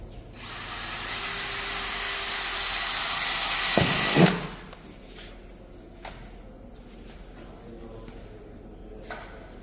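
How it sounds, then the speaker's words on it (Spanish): A power drill bores a small hole through the thin sheet-metal skin of a fire door, a loud steady whine for about four seconds that cuts off abruptly, followed by quieter scattered clicks and handling noises. "Hemos hecho un taladrito pequeño porque la chapa es muy fina"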